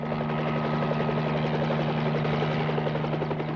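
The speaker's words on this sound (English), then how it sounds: "Helicopters keep watch along the border." A police helicopter on patrol over a desert border region: a steady, loud rotor drone with a low hum and rapid rhythmic blade chop, continuous and close throughout.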